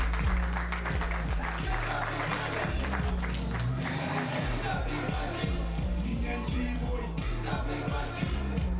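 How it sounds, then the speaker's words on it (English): Sustained applause from an audience at a school Grade 12 farewell luncheon fills the space with steady clapping, while a bass-heavy rhythmic beat thumps underneath. "Big round of applause for Nathan."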